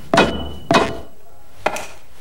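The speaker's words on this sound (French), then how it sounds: "Ensuite, je n'ai plus qu'un coup de marteau à donner." Three sharp, close hammer blows on a hard surface, two in quick succession and a slightly lighter third after a short pause, each a crisp knock that dies away quickly.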